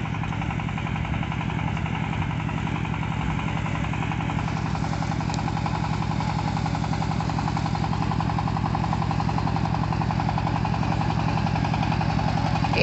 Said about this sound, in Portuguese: equipamentinho que era usado para cortar grama de gramado